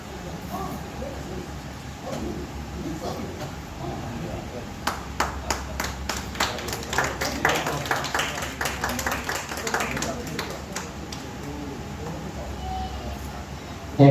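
An audience at a Premchand Jayanti poetry gathering in Begusarai, Bihar breaks into a burst of hand clapping partway through, sharp claps crowding together and then thinning out while a voice keeps talking over the room.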